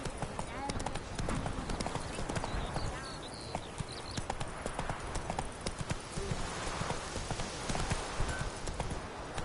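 Roach the horse gallops in Witcher 3, a quick, steady clip-clop of hooves kept up throughout, with voices and other game sounds mixed in underneath.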